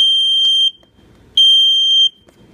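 A Skonda smoke alarm in test mode sounds two loud, piercing high beeps, each lasting well over half a second, separated by a short pause, close by with no voices.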